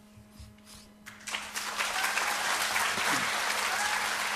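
Audience applause after a lecture on the Moon Jae-in phenomenon, starting from near quiet and swelling within a second into loud, sustained clapping from a large crowd that holds steady to the end.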